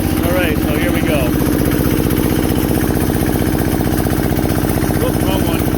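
An Onan DJA/DJB/DJC generator set engine runs with a steady, loud, pulsing chug at close range while someone talks over it.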